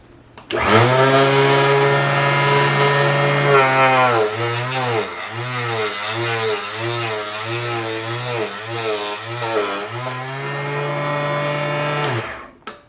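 A Drill Master 120-volt 2-inch cutter slicing through an arrow shaft, a loud, steady motor whine that holds for about ten seconds with a pulsing, wavering pitch as the blade bites, alone with no talk.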